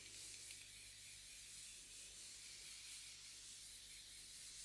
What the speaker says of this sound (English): I'm going to set my face with the Morphe setting spray